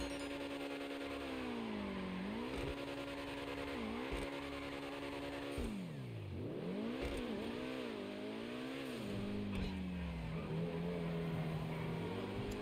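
Obey 10F sports car in GTA Online, its engine droning steadily through gear shifts, revving up and dropping back as it corners, with occasional tire squeal; continuous and close, no talking.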